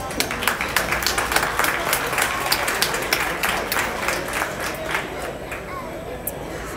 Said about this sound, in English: Give those young people another round of applause.